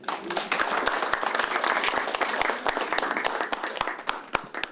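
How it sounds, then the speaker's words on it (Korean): An audience at a literary awards ceremony applauds to welcome the judges, with sustained clapping from many hands, fairly close, and a few individual claps standing out. "한 분 한 분 소개할 때마다 역시 따뜻한 박수로 환영해 주시면 고맙겠습니다."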